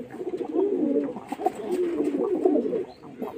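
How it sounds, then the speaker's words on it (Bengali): Kaldum pigeons held restless in the hand give deep, throaty cooing, close and continuous with small swells and breaks, and no talk over them. "হাতে পায়রা থাকছে না, প্রচুর ছটপটে পায়রা"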